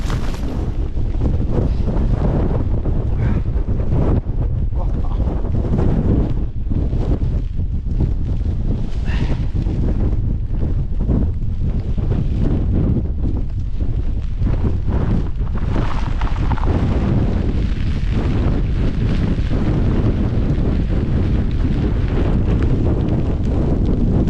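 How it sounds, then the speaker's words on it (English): Strong storm wind during wild camping in heavy rain buffets the microphone without pause, a loud roaring rush with gusting surges throughout and no voices. "this is the worst wind I've been in a long time"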